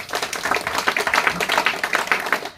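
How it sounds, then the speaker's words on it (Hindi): An audience at a home Krishna Ashtami kirtan gathering gives steady, dense applause for a little girl who performed the aarti, with many hands clapping close by and no talk. "चलते उस बच्चे के लिए जोरदार तालियां हो जाए।"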